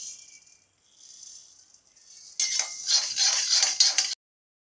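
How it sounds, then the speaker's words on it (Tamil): Ingredients for idli podi are dry roasted in a pan, giving a dry rattling and scraping stir that turns louder and busier toward the end. No one speaks. "இதையும் நல்ல கோல்டன் பிரவுன் வர அளவுக்கு நல்ல வறுத்து எடுத்துக்கோங்க"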